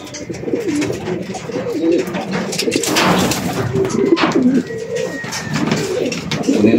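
Racing pigeons at a loft during a derby race coo continuously, a flock's layered throaty burbling close by with scattered overlapping calls and soft background rustle.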